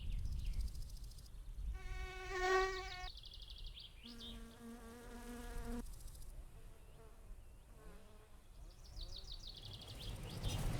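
Mosquitoes and wasps buzz around the player in the video game My Summer Car, insistent whining drones that swell and fade over each other in a continuous outdoor hum with no talking.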